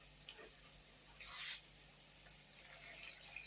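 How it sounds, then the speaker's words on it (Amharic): Water poured into a pan of sauce during cooking, a brief soft splash and trickle near the middle, faint and close, with light kitchen noise around it. "ሶሳችንን እንደዚህ አድርገን በእቃ ላይ ያደረግን በኋላ ውሃ እናደርግበታለን።"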